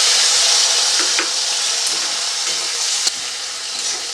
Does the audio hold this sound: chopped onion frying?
yes